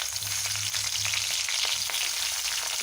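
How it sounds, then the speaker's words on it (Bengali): Prawns frying in hot oil in a wok give a steady, close crackling sizzle that runs throughout, with no voices. "আমি কড়াইয়ে তেল নিয়ে নিয়েছি, এবার চিংড়িগুলো আস্তে আস্তে ভেজে নেব।"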